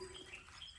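A peacock calls once, briefly and faintly, from a mango orchard, with a thin, high tonal cry over quiet background ambience.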